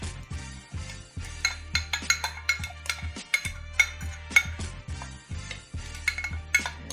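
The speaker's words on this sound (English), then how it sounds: "I made sure to get myself a knife so that I can get the rest of the honey out" A knife scraping raw honey out of a measuring cup, heard as a run of close clinks and scrapes of metal on the cup that come in an uneven, repeated rhythm.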